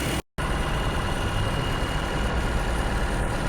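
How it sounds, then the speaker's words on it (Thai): A 2.5-litre Toyota Camry hybrid engine idles steadily with a low, continuous hum, heard up close after a brief dropout at the start. "เสียงเครื่องยนต์เดินแบบนี้นะ"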